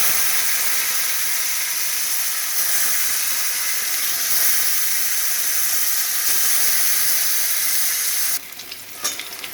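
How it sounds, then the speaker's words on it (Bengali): Boiled raw plantain fries in a pan with five-spice seeds, giving a loud, steady sizzle and hiss that runs throughout with no talking. "কলাগুলো সেদ্ধ করে একটু ভেজে নেব।"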